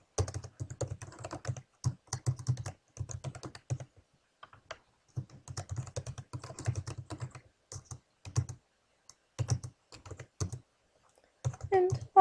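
Computer keyboard typing in bursts of rapid clicking keystrokes with brief pauses between runs, fairly close and moderately quiet, with no voices.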